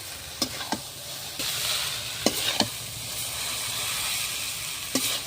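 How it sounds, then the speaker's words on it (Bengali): Chow mein noodles are tossed and lightly fried in oil, a steady hiss of sizzling broken by sharp scraping clanks of a utensil against the pan every second or so. "আমি ভালো করে চাউমিনগুলো তেলের সাথে মিশিয়ে নেব। অতটা ভাজবো না, আমি হালকা করেই ভাজবো।"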